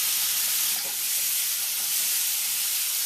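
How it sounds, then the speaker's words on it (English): Curry-coated pork pieces sizzle and hiss steadily in a hot pot while being stirred, a continuous bright frying noise with no voices. "You really want to stir this around to coat all the pieces of the pork with all that curry"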